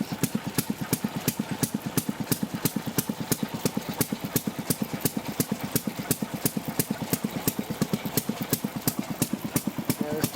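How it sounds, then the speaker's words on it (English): A water-cooled single-cylinder two-stroke Sheffield railroad track-car engine of the 1920s runs steadily on its own, its rapid, even firing beats sounding loud and close without pause. "Water-cooled single-cylinder 2-cycle runs both directions."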